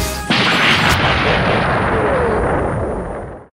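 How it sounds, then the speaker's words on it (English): A large blast near the Space Bridge Core on Cybertron in Transformers Universe erupts suddenly after a brief lead-in, a loud, broad roar that sustains and slowly tails off over about three seconds with no talk over it. "There's been an explosion near the Space Bridge Core."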